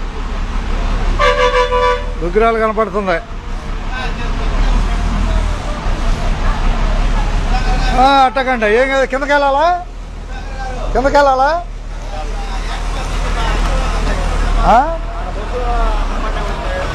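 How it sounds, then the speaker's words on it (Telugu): Busy village road traffic near Duggirala with buses and other vehicles rumbling past and repeated loud horn toots and honks at close range, while people talk throughout. "ఊళ్ళోకి బస్సులు వస్తున్నాయి"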